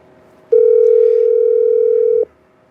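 A telephone line emits one steady, loud electronic tone lasting under two seconds, a clean continuous hum during a callback, starting and stopping abruptly amid quiet.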